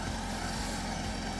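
A supercharged C8 Corvette fitted with a Lingenfelter Magnuson supercharger, strapped down and idling steadily in a dyno cell, giving a continuous broad engine drone with no clear revs over the short stretch.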